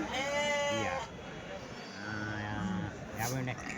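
Sheep bleat repeatedly close by, several animals calling over one another amid a noisy livestock crowd with people talking, at the weekly sheep and goat market in Kadiri, Andhra Pradesh.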